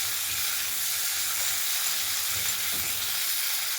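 Onion, peas and chopped tomato sizzle steadily in a hot pan, a dense continuous frying hiss with soft scraping as the mix is stirred, close and alone.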